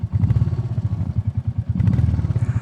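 A Royal Enfield Meteor 350 fitted with a DNA air filter rides along, its single-cylinder engine thumping in a fast, even pulse close to the mic, with a slight swell in intensity toward the end and no talking.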